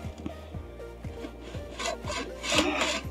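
A 3D-printed HO-scale model railway wagon rolls along the track with a steady, rhythmic clicking at the rail joints about every half second, plus a faint rubbing rumble. The sound is close, moderately quiet and carries no talk.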